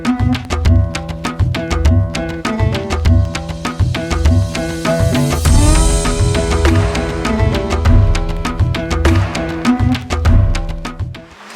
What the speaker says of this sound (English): You can hear the azan going in the background because it is time for Isha prayer